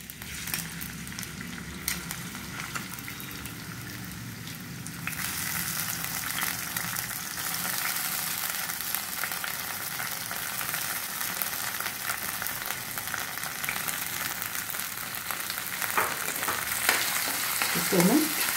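Moong dal roasts in about two spoons of hot oil in a wok, a steady close crackling sizzle throughout that grows louder and busier after the first few seconds, with occasional scrapes of stirring.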